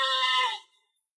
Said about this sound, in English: Oh, a sheep.